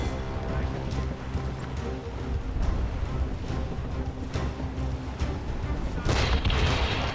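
Warship cannons firing during a naval battle in Assassin's Creed Rogue, a series of heavy booms rolling over a loud background of sea and ship noise, with a final louder blast near the end.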